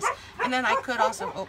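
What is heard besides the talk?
dog barking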